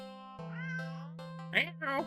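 A cat meows in the video game Do NOT Take This Cat Home: a couple of close, bright meows near the end, layered over a steady sustained humming tone.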